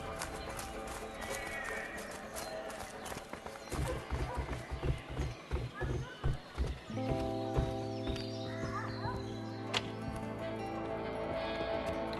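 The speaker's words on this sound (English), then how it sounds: "let's just hope these horses keep running." Horses gallop in the video game A Way Out, with rhythmic hoofbeats building in the middle and a long neigh layered over low ambient music and a steady background bed.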